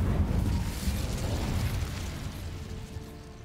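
An Incendio fire spell bursts in Hogwarts Legacy, a roaring, crackling whoosh of flame that starts loud and full and slowly fades over a few seconds, heard alone.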